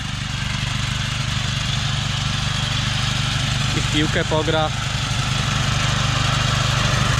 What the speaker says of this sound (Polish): A kosiarka dalej, ani się nie męczy, ani nic, daje radę.